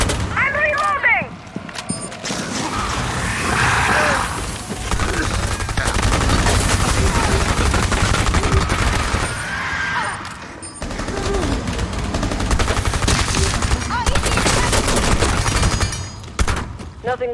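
Sustained automatic gunfire fills a Rainbow Six Extraction firefight, loud and dense bursts rattling almost continuously with brief pauses, faint game voices mixed beneath.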